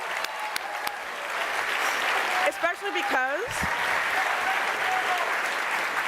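Loud, steady applause from a crowd fills the whole stretch, with a person speaking briefly over the clapping.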